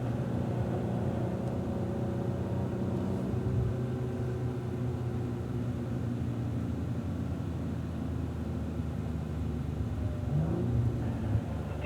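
A 2016 Cadillac ATS-V rolls into the pit lane at Circuit of the Americas, heard as a low, steady engine rumble from inside the car with road and wind noise, no sharp revving.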